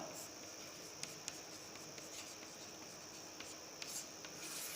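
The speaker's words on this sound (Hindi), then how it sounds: "मैं यहां लिख देता हूं एकक कोष्ठिका" Faint marker or chalk scratching on a board during a Hindi chemistry lesson on solids, a continuous soft rubbing with a few small taps, quiet and close, no talking.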